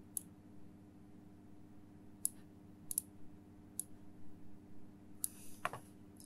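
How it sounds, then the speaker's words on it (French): Crisp, faint computer mouse clicks tap out one at a time at uneven intervals while working in CAD software, with a brief double click near the end over a low steady hum. "je clique droit et je mets en rouge les faces"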